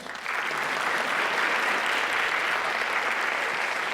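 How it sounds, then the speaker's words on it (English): A large audience at a school district centennial celebration breaks into applause, a sudden, full and sustained roar of clapping that stays loud and even for the whole stretch. "Applause."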